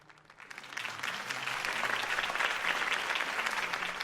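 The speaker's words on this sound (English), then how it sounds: "could have heard that applause" Steady applause from a crowd in a Batman video game, rising quickly and holding at a full, even level throughout.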